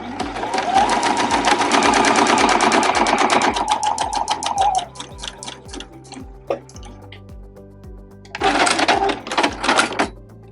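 Sewing machine stitching a straight quarter-inch seam joining fabric scraps for a zipper pouch: a fast, loud, steady needle rattle that slows and stops, a few isolated clicks, then a second short burst of stitching, close up.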